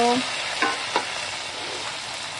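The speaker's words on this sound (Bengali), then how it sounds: "পেঁয়াজটা ভাজা হয়ে গেছে আর এখন দিয়ে দিলাম টমেটো" Chopped tomatoes go into a pan of onions and green chillies frying in hot oil, a steady close sizzle with two brief stirring scrapes and no talk.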